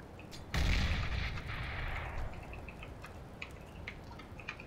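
A grenade bursts in a Counter-Strike: Global Offensive match, a sudden loud blast that rolls off over a second or two, followed by faint scattered in-game clicks and ticks.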